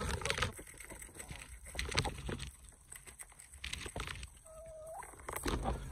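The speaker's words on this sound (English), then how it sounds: "The ducks don't like those chickens at all." Chickens cluck and squawk at close range during a feeding, with ducks nearby, in short irregular bursts over a busy background and one brief rising squawk near the end.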